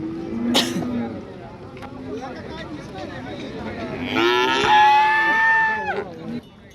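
At a busy cattle market a native desi bull gives a drawn-out, loud moo near the end, preceded by shorter lowing calls, with people talking nearby throughout.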